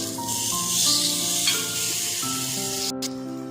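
Yam pieces shallow-frying in oil in a pan, a steady close sizzle and hiss with a musical tone over it and a brief sharp clatter near the end.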